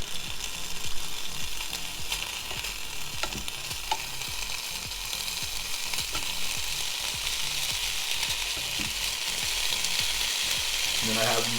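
Eggs and sausages sizzle steadily on a preheated Ninja Foodi grill, a dense, even frying hiss with faint clicks and scrapes running throughout.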